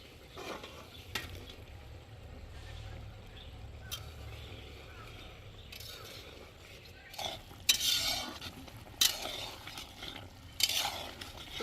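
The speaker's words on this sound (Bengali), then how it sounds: "ঝোলটা দেখো আমাদের কি সুন্দর ফুটে গেছে এবার আমি দিয়ে দেবো এর মধ্যে ভেজে রাখা মাছগুলো" Fish curry gravy bubbling in a pot as fried magur catfish pieces go in, a low steady simmer with a few sharper clatters and splashes near the end.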